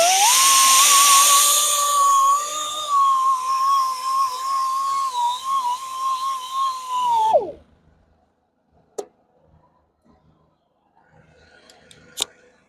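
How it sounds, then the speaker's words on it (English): A conditioning disc grinding curb rash out of a wheel gives a steady high whine for about seven seconds, then stops abruptly, leaving near silence with a couple of faint clicks. "So conditioning disc to grind out the bigger damage"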